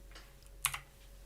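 A few quick keystrokes on a computer keyboard in a room being rearranged, one short cluster of clicks near the middle, close and fairly quiet, with no talking.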